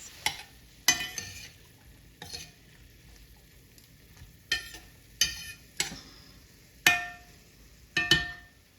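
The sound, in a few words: vegetables and celery cooking in a pan for jambalaya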